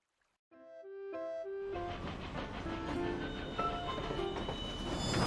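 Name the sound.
train moving in video game World of Final Fantasy Maxima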